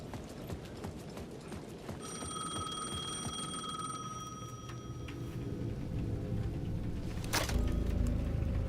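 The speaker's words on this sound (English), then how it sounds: "The payphone at the edge of the plaza was ringing again." A payphone rings at the edge of a plaza in the video game Alan Wake 2, steady tonal ringing through the middle of the clip over a dark ambient bed, ending in a sharp loud hit.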